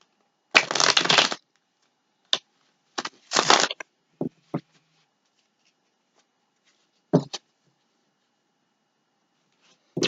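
Tarot cards are shuffled close by in several separate bursts, one longer riffle followed by a few shorter ones and isolated quick flicks, with quiet gaps in between.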